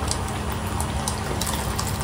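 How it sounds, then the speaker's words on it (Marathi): Rajma cooking water poured into a pan of rajma gravy, a steady wash of splashing liquid running unbroken and fairly loud throughout. "जे पाणी असतं ते पण ॲड करायचं त्याच्याबरोबर"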